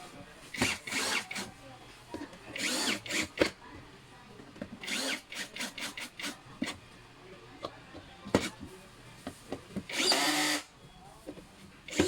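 Power drill driving a screw while assembling a PVC executive chair: a series of short, close whirring bursts separated by brief pauses, with a few quieter scrapes and handling noises between them.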